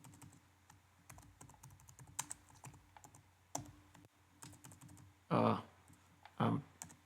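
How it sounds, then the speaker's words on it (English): Rapid typing on a computer keyboard, bursts of clicky keystrokes with short pauses, close up; a couple of brief louder thumps near the end. "I'm typing too fast now."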